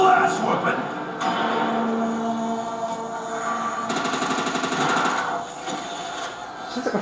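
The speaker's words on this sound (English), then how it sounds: "Sounds like a freaking laser gun" Rapid laser-like gunfire from a weapon in the Der Reise zombies map, loud and close, with bursts of fast rattling shots over game noise and a voice talking.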